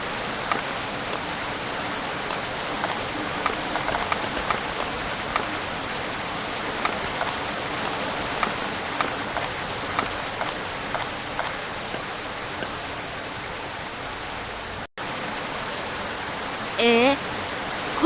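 Heavy rain in Sakura School Simulator pours as a steady, dense hiss for the whole stretch, broken by one short drop-out near the end and a faint chime at the close.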